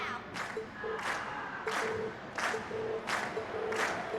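Crowd applause and cheering from a festival stage performance in the video game The Legend of Heroes: Trails of Cold Steel, a steady wash of clapping with recurring swells of cheers, moderately loud with no talk.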